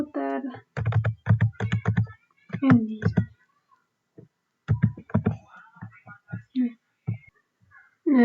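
Rapid bursts of keystrokes on a computer keyboard while website code is written, with the clicking separated by short pauses and a voice talking at close range.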